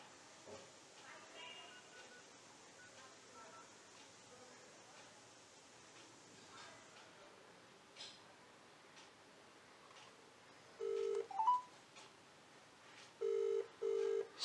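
Phone call tones on a Samsung phone with VoLTE: after a stretch of faint ticking and background noise, short electronic dial beeps sound near the end, clear and close.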